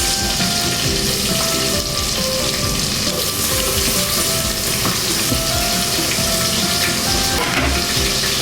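Garlic and onion sautéing in a pan, a loud continuous sizzle filling the whole stretch, dense and close with small crackles and utensil movement beneath it.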